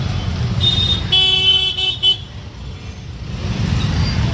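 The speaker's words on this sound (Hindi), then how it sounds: "देखिए चारों तरफ से जाम लगा, ट्रैफिक चारों तरफ से जाम लगा हुआ है।" Jammed road traffic around a crowded temple area in India on the eve of Vat Savitri puja: a continuous rumble of engines with short car horn toots and honks layered on top, close and busy.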